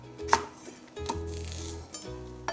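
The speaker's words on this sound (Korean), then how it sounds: "육수 낼 때 크게 썰고요" A knife chops through green onion on a cutting board in three separate bursts of quick, close knocks, with brief pauses between them.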